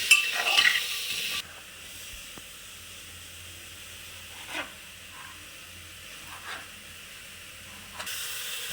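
Garlic frying in oil and butter for a chicken stew, a faint low sizzle broken by a few soft stirs in the pan, with brief louder bursts at the start and end.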